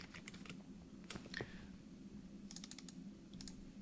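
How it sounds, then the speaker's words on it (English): Typing on a computer keyboard while entering login details: short bursts of soft, quick key clicks with pauses between them, faint and close, with no talking. "this is the username and password that I set up when I set up my WPX hosting. So I'll type that in right now."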